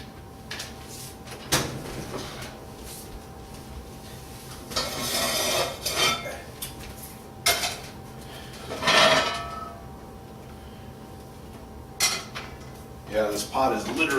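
A hot cast pot for baking whole grain sourdough rye bread is handled and moved in a kitchen, giving several scattered metallic clanks and knocks between quieter stretches.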